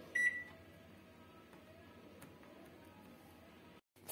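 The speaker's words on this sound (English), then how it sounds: "now this will go into my microwave. For 2 minutes." A microwave oven baking a chocolate brownie gives a steady low hum after an opening beep, quiet and continuous, with a brief dropout near the end.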